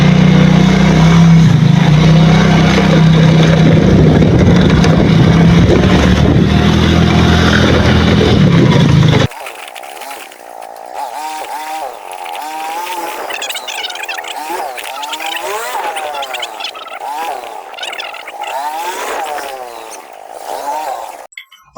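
A Yamaha Mio GT scooter with a fault that makes it hard to start and stall when throttled, heard on a test ride: a steady, loud engine drone, then a rushing ride with wind and engine pitch rising and falling.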